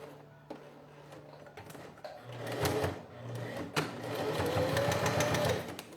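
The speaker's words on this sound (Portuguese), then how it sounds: "Costurando o plástico." A sewing machine stitches clear plastic at a 2.5 stitch length, with soft stitching runs broken by small clicks and handling noises, fairly quiet and close.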